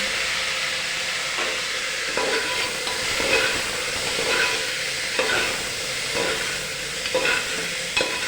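Red lentils, ginger and chopped bottle gourd are stirred in a hot pot, a loud continuous sizzle and steam hiss broken by repeated scraping strokes of a spoon at a steady pace.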